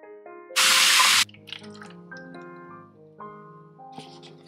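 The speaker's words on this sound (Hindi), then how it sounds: "यहाँ से हमें पानी फिल करना है।" Water gushes in a short, loud hissing burst into the tank of a floor-cleaning mop, lasting well under a second, with soft background music before and after.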